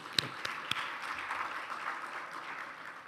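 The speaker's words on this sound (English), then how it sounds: "I think they need a round of applause." Audience applause at a youth-led intergenerational dialogue event, faint and distant, a soft continuous patter of clapping with a few sharper claps near the start.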